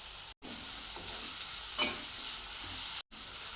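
Carrots, spring onion and capsicum stir-fried over a high flame make a loud, steady sizzle and hiss that breaks off briefly twice, with no talking.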